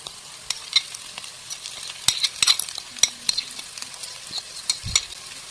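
Onion, green chili and potato fry in a pan, a dry crackling sizzle punctuated by sharp stirring scrapes and taps, close and without speech.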